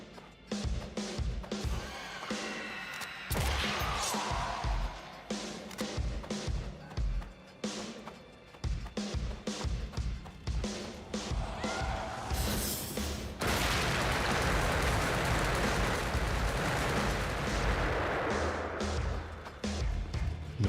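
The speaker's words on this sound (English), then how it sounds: "let's try these boxes of firecrackers out" Firecrackers bursting in the first-person shooter Project Warlock 2, a long, dense run of sharp cracks and pops layered over game music and effects, loud and chaotic throughout with a heavier crackling barrage in the second half.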